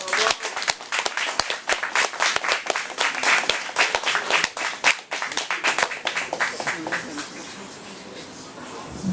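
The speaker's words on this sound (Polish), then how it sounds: "Słysząc po klaskach, myślę, że się należały i to bardzo" Loud, dense applause from a live audience after a cabaret act, sustained clapping for about nine seconds that thins slightly toward the end.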